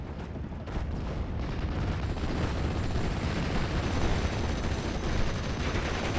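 Rapid rifle and machine-gun fire mixed with artillery blasts in a World War II strategy game, a dense, continuous crackle of shots and booms with no talking.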